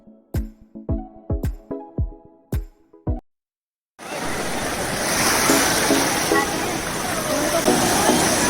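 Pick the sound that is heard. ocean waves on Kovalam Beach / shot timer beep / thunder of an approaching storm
ocean waves on Kovalam Beach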